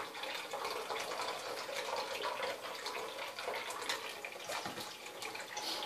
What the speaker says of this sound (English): you can even have, you know, a little bit of hot water running in there